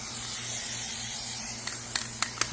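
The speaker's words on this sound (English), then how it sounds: "I've got some spray adhesive glue stuff. We'll spray on there and stick it" Spray adhesive glue hissing from a nearly empty spray can, a steady close airy hiss followed by several short sputtering bursts toward the end, with no talk.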